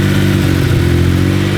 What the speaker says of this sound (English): Listen to the exhaust purr.